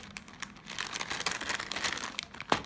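Plastic wrapping on a doll kit package crinkles and rustles in quick close bursts as it is opened, ending in a sharper crackle, with no voices.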